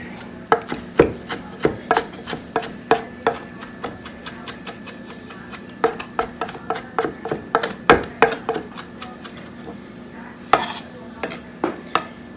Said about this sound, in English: I'm going to take this spinach that is very, very dry, and I'm going to chop it.